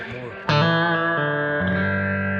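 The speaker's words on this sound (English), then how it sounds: "You hear that reverb? It's really good vintage reverb." Handwired Lil Scrapper combo guitar amp with vintage reverb, a sustained chord struck and ringing loud with a reverberant tail, followed by changing chords that wash into the spring-like echo.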